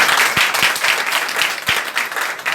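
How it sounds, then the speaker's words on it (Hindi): Loud crowd applause fills a political party gathering, with dense steady clapping and a few sharper individual claps standing out throughout. "आज जोरदार ताली बजा लो।"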